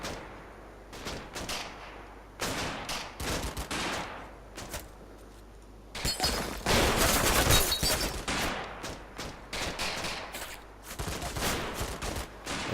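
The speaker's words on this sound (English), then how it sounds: "oh, hang on, they're shooting back" Enemy troops fire back in the Combat Mission: Battle for Normandy video game, with dense volleys of rifle and machine-gun shots in repeated bursts, building to a sustained heavy exchange in the middle, some shots distant.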